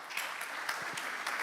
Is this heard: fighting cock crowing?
no